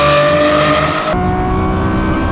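A Lamborghini Revuelto engine roars loudly up close on a track, its pitch climbing, then breaks sharply into a gear change before pulling hard again.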